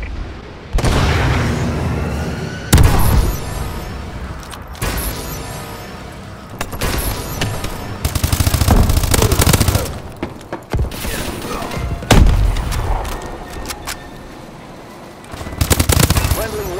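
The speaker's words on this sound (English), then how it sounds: "Friendly missile strikes inbound." Missile strikes and heavy gunfire in the game Call of Duty: Advanced Warfare, loud repeated booming blasts and rapid fusillades in bursts separated by short lulls, with in-game voice callouts over the action.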